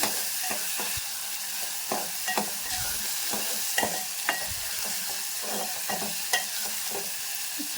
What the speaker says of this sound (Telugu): టమాటో మాత్రం కొద్దిగా బాగా మగ్గాలండి